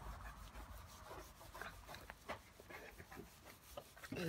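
Cotton rubbing toothpaste across a car headlight lens, a close, steady scrubbing friction with repeated short strokes, faint and continuous with no talking.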